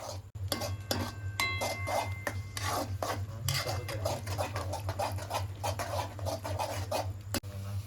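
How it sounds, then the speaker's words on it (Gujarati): Spiced gravy for a Gujarati-style soya chunk curry stirred in a pan, a steady close scraping and rasping of a spoon against metal with soft clinks, continuous over a low hum, no talking. "તો હવે આને આપણે સરખી રીતે હલાવી લઈશું જેથી કરીને બધો મસાલો મિક્સ થઈ જાય"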